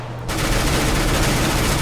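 Sustained automatic gunfire from a weapon in CS:GO, a dense, loud and continuous rattle of rapid shots that bursts in right after a brief quiet start and holds steady to the end.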